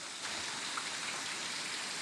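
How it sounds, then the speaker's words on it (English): Heavy rain falling on the coast, a dense, even hiss of drops spread wide and steady, moderately distant with no voices. "That's a lot of rain."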